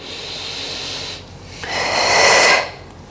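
A close, loud breath is drawn in and pushed out in one slow cycle during a morning strength workout with dumbbells.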